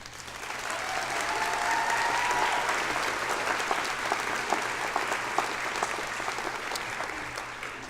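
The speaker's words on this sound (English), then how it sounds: "Give yourselves a round of applause." University convocation graduates clap in sustained, dense applause filling a large hall, steady throughout with a few scattered louder claps.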